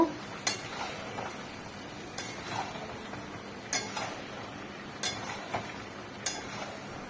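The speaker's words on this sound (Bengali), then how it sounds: "দিচ্ছি ভেজে রাখা চিংড়ি মাছটা, নেড়ে চেড়ে মিশিয়ে দেব।" A spoon scrapes and knocks against a pan while fried prawns are stirred into poppy seed and green chilli paste, a steady series of about six sharp taps at even intervals, close and with no talk.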